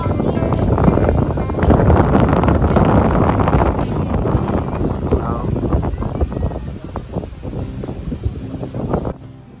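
Strong wind buffets the microphone on Bulabog Beach on the eastern side of Boracay, a loud continuous roar with gusts, and a voice speaks faintly beneath it.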